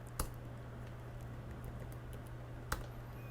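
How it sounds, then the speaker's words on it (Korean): Two crisp keystrokes on a computer keyboard, typing a backslash, one near the start and one near the end, set against a quiet room hum with no one speaking. "한번 백슬래시를 입력해 볼게요."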